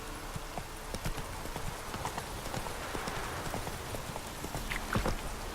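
Roach, the horse in The Witcher 3 video game, clip-clops along in a steady walking rhythm of hoofbeats, moderately quiet against a soft ambient background, with no voices.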